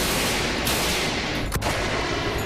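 Machine-gun fire sounding as a dense, continuous roar of rapid bursts, loud and unbroken apart from a brief dip partway through.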